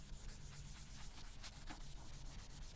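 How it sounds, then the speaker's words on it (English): Pencil writing being rubbed out with an eraser during a phonics lesson, a close, quiet, steady scrubbing with rhythmic back-and-forth strokes and no talk. "rub it out so we can't see it anymore"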